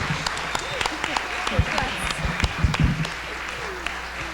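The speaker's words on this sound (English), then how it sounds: "I'd like everybody to applaud everybody who performed tonight" Audience at a village talent show applauding the night's performers, scattered claps with some cheering and voices mixed in, moderately loud and uneven.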